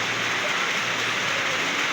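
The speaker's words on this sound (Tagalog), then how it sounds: "Balde, napupuno lang yan dahil lang sa ulan." Steady, dense rain pours down close by and fills a bucket, with an even wash of drops hissing across surfaces and no voices.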